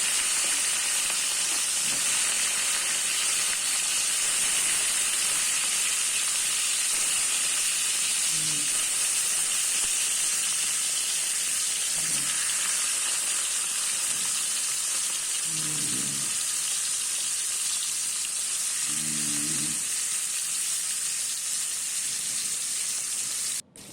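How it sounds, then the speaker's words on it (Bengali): Bhola fish pieces frying lightly in hot oil for a mustard curry, giving a steady, even sizzle and hiss throughout, with a few faint low clinks standing out now and then. "আমি হালকাভাবে ভাজা করব।"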